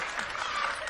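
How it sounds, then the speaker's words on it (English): A lone audience member claps in a television studio during a talk show segment, a quick flurry of hand claps over a brief moment, fairly soft and slightly distant, with talk faintly in the background. "She's clapping when we're talking about Trump"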